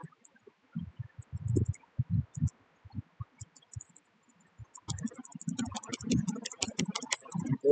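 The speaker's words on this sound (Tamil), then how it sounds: "ஆப்பிள் பனானா செரி டைப் பண்ணிக்கிறேன்." Fingers type on a computer keyboard in short bursts of clicks, first sparse, then a faster run of close keystrokes, with muffled speech underneath at times.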